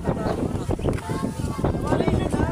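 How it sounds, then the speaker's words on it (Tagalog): Strong typhoon wind buffets the microphone in a steady low roar, with people talking over it. "malakas ang hangin"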